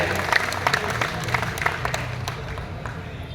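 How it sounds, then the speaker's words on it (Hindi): An audience at a Hindi poetry recital gives sustained, moderately loud clapping to welcome a poet named Ravi, with some speech mixed faintly into the dense applause. "एक बार जोरदार तालियां बजाकर उनका स्वागत करें"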